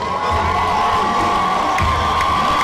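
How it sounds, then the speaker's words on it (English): A loud crowd at a prison-league fight event cheers and whoops continuously, a dense wall of shouting voices and high yells close to the microphone. "Top crowd cheering on the 6'2" featherweight"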